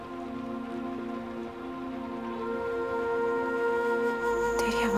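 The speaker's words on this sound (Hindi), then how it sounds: "इस बारिश से बहुत डर लग रहा है" Rain falling in a steady hiss of drops on surfaces, continuous and fairly loud, building slightly toward the end, with a soft tonal backdrop and no voices.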